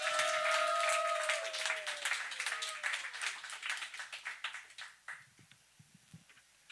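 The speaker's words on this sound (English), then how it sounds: "make it loud for him and start clapping right now for David Voss, ladies and gentlemen" A comedy show audience claps and cheers for a contestant walking on stage, loud at first under music, then thinning into scattered claps that fade out within a few seconds.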